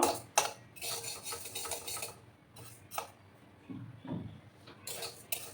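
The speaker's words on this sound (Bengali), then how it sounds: "অনবরত নাড়াচাড়া করে আমি ডালটাকে প্রথমে ভাজবো।" Lentils dry-frying in a pan as a spoon stirs them nonstop, giving bursts of scraping and clinking with short pauses between strokes.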